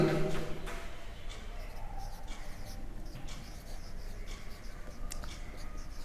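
A pen writing an entry in a cash book, soft scratchy strokes in short irregular bursts, close and faint, under steady background hiss.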